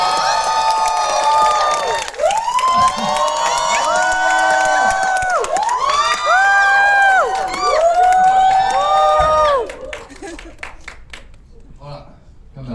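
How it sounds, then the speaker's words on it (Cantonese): A crowd at a Hong Kong film promotional event cheers and applauds loudly and continuously for about nine seconds for actor Nick Cheung, with whoops and bright voices on top, then the noise thins out toward the end. "大家俾啲掌聲"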